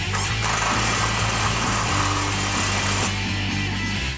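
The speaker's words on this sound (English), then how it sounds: "Tighten up the tie rod." A power tool runs steadily for several seconds while tightening a tie rod on a 2014–2016 Ford F-150 4WD during a shock kit install, a continuous mechanical drone with a low pulsing hum throughout.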